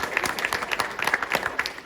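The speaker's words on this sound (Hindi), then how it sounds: "इसके लिए तो तालियां जरूर करना" A crowd claps at a regional team gathering tied to an athletics competition, with distinct rapid hand claps close by forming a brisk, uneven patter of moderate loudness.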